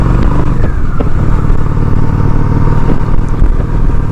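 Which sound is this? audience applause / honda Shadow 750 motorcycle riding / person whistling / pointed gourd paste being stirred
honda Shadow 750 motorcycle riding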